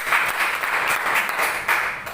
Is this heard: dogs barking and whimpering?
no